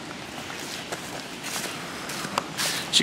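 Footsteps crunch through woodland thick with fallen autumn leaves, uneven and fairly close, over a windy outdoor background.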